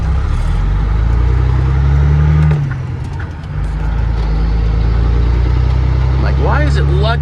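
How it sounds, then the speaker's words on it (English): A truck engine on an owner-operator's rig labors at low revs in the wrong gear, a steady deep drone that dips briefly before resuming, with a person talking over it. "why is it lugging so hard? Oh, I'm in the wrong gear."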